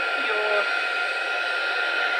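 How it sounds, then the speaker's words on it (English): A steady, loud airy whoosh of an embossing heat tool runs continuously throughout, with a brief faint tone near the start. "So it's going to get a bit noisy now, because I'm going to put my heat tool on."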